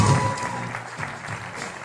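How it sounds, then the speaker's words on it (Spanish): Audience applause at a campus show, a dense, steady clapping from a crowd that stays loud and continuous throughout. "Dale un aplauso, venga."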